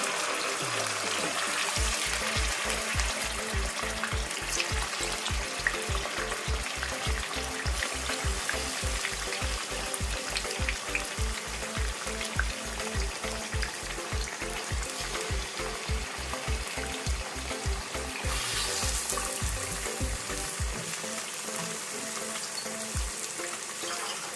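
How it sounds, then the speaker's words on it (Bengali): Pieces of katla fish sizzling in hot oil in a pan, a loud, continuous crackling hiss running throughout, with no talking. "তেলটা আমার মোটামুটি গরম হয়ে গেছে এবার আমি আস্তে আস্তে মাছগুলোকে ছেড়ে দিচ্ছি"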